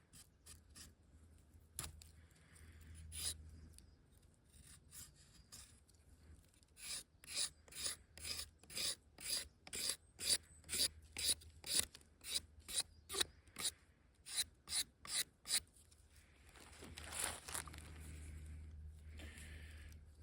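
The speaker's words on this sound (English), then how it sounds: "You could also grind it like this" A carved wooden stick being ground by hand: scattered scrapes, then a long run of quick, rhythmic rasping strokes, close and fairly quiet, ending in a rougher grinding rub.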